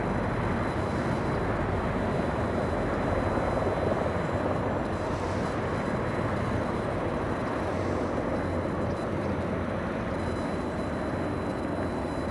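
Air Force One, the presidential aircraft, takes off at LAX with a loud, steady broadband roar of engine noise that holds unbroken for the full length, with no voices over it.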